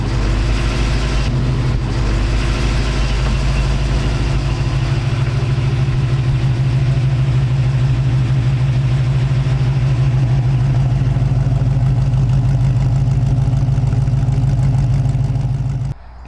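A nicely dressed 350 Chevy V8 with a turbo 350 automatic idles steadily in a 1936 Ford five-window coupe resto-rod, a loud, close, continuous low rumble that holds even throughout and drops off at the very end.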